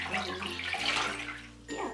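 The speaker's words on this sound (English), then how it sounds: "So I'm just gonna submerge it in water." Fabric being pushed under and soaked in a bucket of water while tie-dyeing, giving a short run of near, loud sloshing and gurgling splashes.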